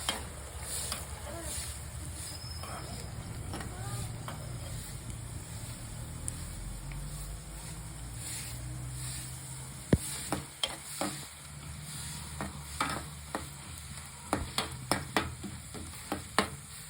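Herbal folk-medicine ingredients, including medicinal sticks, stirred in a pan with a steady low sizzle, then a run of sharp scraping and knocking strokes near the end, close and moderately loud with no talk.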